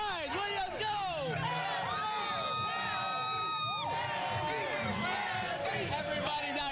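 A dense crowd of Spurs fans cheers and whoops at the Rue Pub on NBA draft night, continuous loud hubbub with shouting voices and excited chatter throughout.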